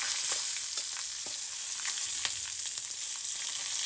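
Half a spoon of asafoetida and curry leaves hit hot oil in a pan, producing a loud, continuous close sizzle with faint crackles and stirring scrapes throughout.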